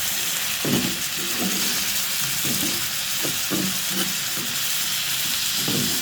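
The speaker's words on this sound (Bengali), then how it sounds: "এখন আমি একটা লাড়া দিয়ে দেবো।" Bitter gourd fries in oil in a wok, with a loud continuous sizzle and hiss, broken by repeated scraping stirs of a spatula, no voices.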